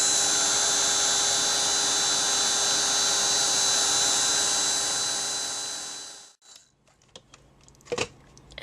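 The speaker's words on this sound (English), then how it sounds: "And then I can dry this with my heat tool." A heat tool drying paint on a stamped craft project, a loud steady high-pitched whine blowing close by that winds down and stops, followed by a few light clicks and handling sounds.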